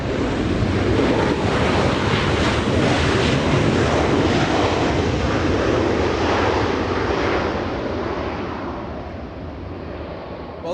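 A Delta airliner takes off from runway 24 left at Los Angeles International Airport, a loud, steady broadband jet roar that slowly fades as it climbs away.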